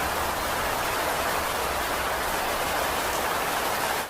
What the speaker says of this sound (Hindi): बारिश रुकने का नाम नहीं ले रही थी।